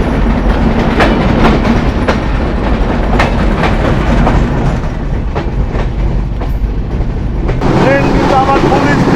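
The Sagardari Express, a broad-gauge intercity train, runs at full speed of about 80 with a loud, continuous roar, rhythmic clickety-clack over rail joints and heavy wind buffeting, while a voice is heard now and then.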